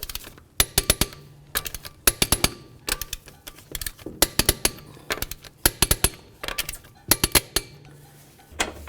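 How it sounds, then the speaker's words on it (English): Torque wrench tightening wheel lug nuts on a 2009-2020 Dodge Journey, giving sharp metallic clicks in quick groups of two to four, repeated steadily, close and loud with no talk. "we can go ahead and torque these to 100 foot-pounds."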